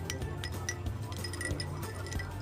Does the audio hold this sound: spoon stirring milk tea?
yes